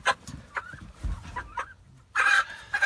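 Live chickens cluck and squawk nearby on a farm butchering day, short agitated calls breaking out in bursts with a louder flurry at the end.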